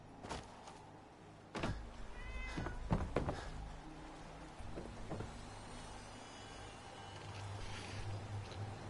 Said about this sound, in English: Little kitty cat.